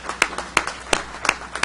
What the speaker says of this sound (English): They deserve a good round of applause.